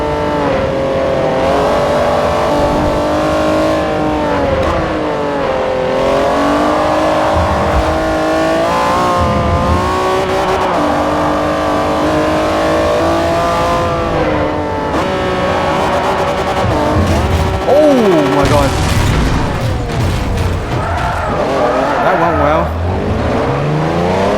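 An Acura NSX race car in Forza Motorsport 4 drives with a steady, loud engine drone whose pitch rises and falls through shifts and corners, with a possible brief tire squeal and no talking.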